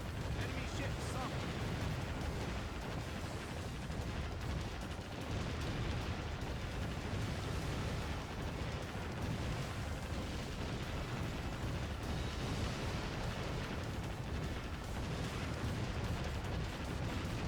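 Naval gunfire and explosions in the video game Warship Gunner 2 form a dense, continuous barrage of booms and rumbling blasts, loud and layered throughout.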